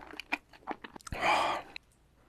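Close, crisp eating sounds from a mukbang of raw seafood, with raw oysters chewed and bitten in a quick run of wet crunches and smacks, then a brief louder squelch, alone without talk.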